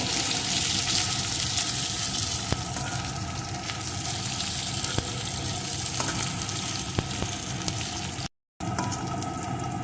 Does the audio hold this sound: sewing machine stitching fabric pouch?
no